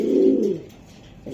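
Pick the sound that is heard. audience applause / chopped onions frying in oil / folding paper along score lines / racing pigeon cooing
racing pigeon cooing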